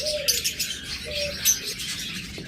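Adult DNA-sexed pet birds sold as breeding pairs give soft coos and scattered bright chirps, close and clear, with a few faint flutters and no voices.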